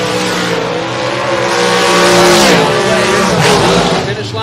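The M&M dragster, a Class 1 Transportation entry at a fall drag racing event, roars loud and near with a broad engine blast that swells mid-run, while an announcer's voice runs underneath.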